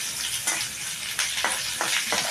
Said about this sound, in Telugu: ఇవి వేగిన తర్వాత కొద్దిగా టమాటాలు కూడా కట్ చేసి పెట్టాం కదా, టమాటాలు వేస్తాను